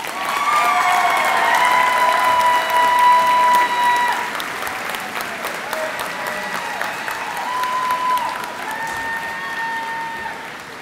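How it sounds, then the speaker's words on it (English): An audience applauds at a Houston Police cadet class graduation ceremony in a large hall, with steady, full clapping and a few faint cheers that last about ten seconds and gradually ease off. "let's give them one more big round of applause."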